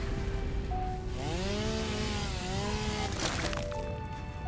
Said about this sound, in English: I do love the sound of the chainsaw.